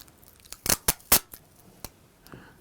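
Adhesive tape pulled off the roll in several short, sharp ripping bursts with small pauses between them, close and clear against quiet.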